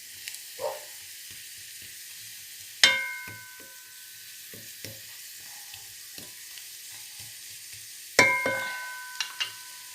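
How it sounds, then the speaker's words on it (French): Onions sautéing in a frying pan give a soft, steady sizzle throughout, broken by two sharp metallic clanks of a utensil against the pan and a few lighter taps and scrapes. "je fais revenir mes oignons"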